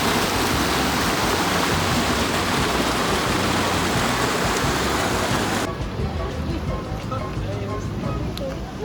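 Heavy, steady roar of rushing water from a waterfall, loud and continuous, dropping slightly in brightness partway through but still flowing strongly to the end.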